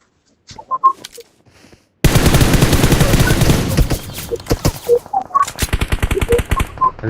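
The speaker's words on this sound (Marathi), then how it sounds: "अरे या दगडाला गोळ्या लागल्या." Automatic gunfire from an online shooter game strikes a stone, loud rapid bursts crackling in fast succession after a quiet start, then breaking into shorter scattered volleys.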